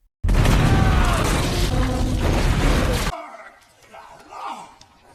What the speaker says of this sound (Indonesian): bom kemudian meledak